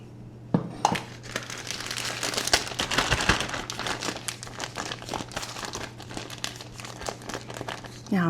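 A store-brand plastic freezer bag is crinkled and handled at close range, giving a dense, irregular run of crackling rustles with a few sharper crunches.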